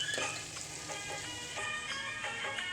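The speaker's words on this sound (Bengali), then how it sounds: "এদিকে আমার আলু ফ্রাই হয়ে এসছে" Potatoes fry in oil, giving an even, close sizzle with faint rhythmic scraping from stirring throughout a short stretch, no one speaking.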